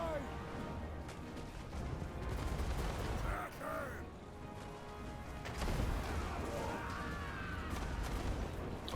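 Battle noise from the video game Total War: Warhammer 2: a dense, continuous barrage of gunfire with explosive bullets, cracking and booming in waves for several seconds.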